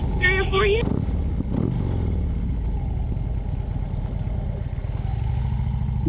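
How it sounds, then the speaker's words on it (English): Motorcycle carrying two riders, rider and child passenger, engine running steadily and close throughout, with people talking over it. "Well, Renee, thanks for coming on a ride with me"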